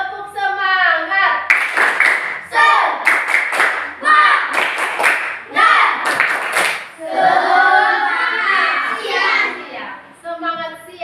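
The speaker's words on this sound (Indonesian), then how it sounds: "Coba kasih semangat dulu. Tepuk semangat." A class of children claps out the rhythmic tepuk semangat in a classroom, with sharp, evenly spaced hand claps mixed with loud chanting voices throughout.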